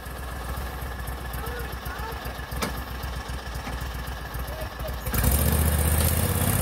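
A six-wheel Argo off-road utility vehicle engine runs at a rough idle and then revs up sharply near the end, getting louder and harsher, close to the microphone.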